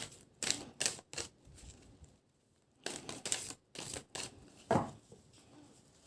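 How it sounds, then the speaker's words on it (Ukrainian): Tarot cards being shuffled and handled close by, with quick papery riffles and flicks in short bursts separated by quiet moments. "Зараз я дістану карти."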